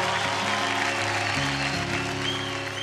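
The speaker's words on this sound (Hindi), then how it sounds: "दादाजी के लिए एक बार जोरदार" A studio audience on an Indian TV singing competition claps loudly for a grandfather, producing a dense, steady burst of applause that fills the short moment without any talking.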